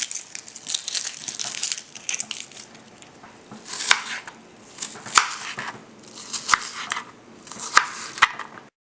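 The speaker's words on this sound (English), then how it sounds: "On the onion, slice both ends off, peel this top part off" Knife work on an onion for vegan chili: a run of crisp, crunchy cuts and crackling peel, with sharp chopping strikes every second or so, close and moderately loud, no talking.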